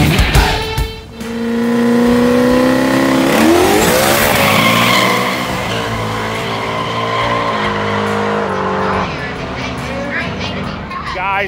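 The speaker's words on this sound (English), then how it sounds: "All these fast cars all over the track." Loud no-prep drag race cars at Benton Speedway rev and roar past at close range, pitch sweeping up as they accelerate, with tires squealing and a steady motor drone.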